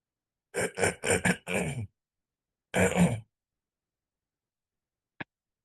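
A close, harsh coughing fit: four quick hacking bursts, a pause, then one more cough, followed by a tiny click.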